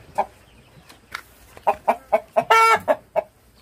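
A very large chicken clucks in a run of sharp, close calls, spaced at first and then quicker, with one louder squawk near the end.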